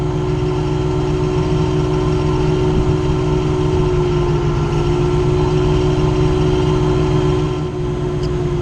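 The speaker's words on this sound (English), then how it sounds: "The ARB inflator gauge is definitely very helpful because you can just rapidly check the pressure by taking your hand off the lever" ARB air compressor inflating a car tire back to about 30 psi after beach driving; a loud, steady mechanical hum with a sustained tonal whine running throughout, nearly unchanging, with no talk.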